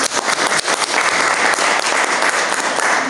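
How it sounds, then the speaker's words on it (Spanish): An audience claps steadily at a talk, a dense, continuous burst of applause throughout, with no speech over it. "Le damos un aplauso."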